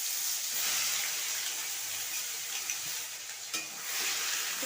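Onion paste with whole cumin and chilli being stirred in a hot pan of oil for a rui fish curry, a steady loud sizzle and hiss with soft scraping of the spoon, continuous throughout.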